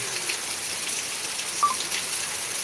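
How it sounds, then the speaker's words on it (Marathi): Heavy rain in Beed pours as an even, hissing patter over flooded streets, continuous and moderately loud, with no voices. "आता आणखीन एवढा पाऊस सुरू झालेला आहे जोराचा"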